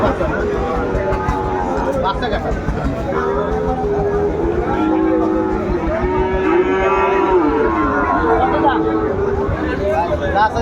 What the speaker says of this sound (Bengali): আমরা দেখছিলাম সামনে একটা গরু দামাদামি চলছে আর দামদার করছেন এখানে শাহাদত ভাই